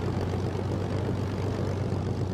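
A de Havilland Mosquito night fighter's piston engine runs steadily during its start sequence, a loud continuous propeller drone with a low throbbing hum and no voices.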